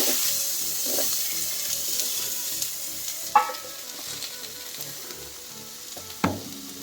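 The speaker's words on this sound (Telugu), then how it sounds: "ఇప్పుడు సన్నగా తరిగి పెట్టుకున్న ఈ దోసకాయ ముక్కలను వేసేసుకుందాం." Thin slices of cucumber fry in a tablespoon of oil for a summer chutney, giving a steady close sizzle with two sharp spatula clatters.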